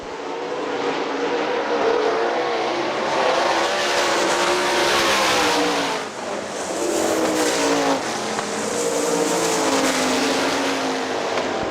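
Outlaw sprint cars racing at Hartford Speedway Park, a continuous loud roar of engines close by, rising and falling across about twelve seconds with no talking over it.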